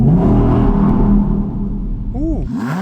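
An Audi R8 engine revving in the snow. A low, throaty idle rumble swells and falls, and sharp rising and falling rev sweeps come near the end, close and loud.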